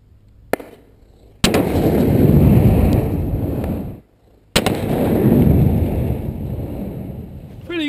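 An LG 440 40mm grenade launcher fires exploding rounds outdoors: a small pop, then two long, loud rumbling blasts that roll out over several seconds each, separated by a brief quiet gap.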